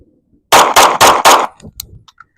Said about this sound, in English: I want you to see just how the gun reacts during firing.